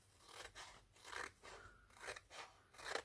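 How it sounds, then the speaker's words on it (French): Scissors snip through a small paper tab on a Halloween treat box, giving about six quiet, crisp crunching cuts in an even rhythm, close up with no talking. "je coupe la petite languette et je coupe dans la longueur"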